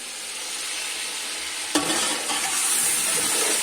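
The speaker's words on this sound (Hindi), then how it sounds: "तो गोश्त और मसाला दोनों चीजें भून रही है अच्छे से।" Meat and spices frying in a pan in a Pakistani village kitchen, a loud steady sizzle with a sharp scrape of the spoon stirring partway through, close up and with no voices.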